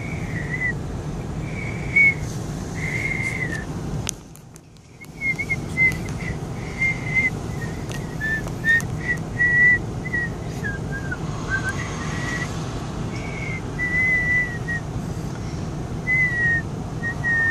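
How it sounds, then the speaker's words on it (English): A girl whistles by blowing outward, producing a string of thin, wavering notes in short phrases with brief gaps, close by over a faint background hum. "knows how to whistle now, blowing out, not just sucking it in"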